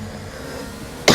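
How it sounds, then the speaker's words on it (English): A single sharp cough bursts out at the very end of a short stretch of low background engine hum from a racing game, loud and close. "apologies about the cough"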